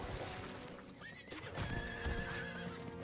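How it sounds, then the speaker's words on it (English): In the video game Diablo 4, a horse lets out a long rising whinny as it is mounted, with hoof clip-clop and game ambience around it, fairly quiet overall. "Mount the horse, there we go."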